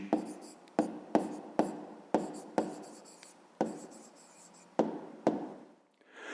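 A pen or pencil writes a maths answer by hand on paper, close up, with a series of sharp stroke onsets and scratchy scribbling, about a dozen strokes in quick succession.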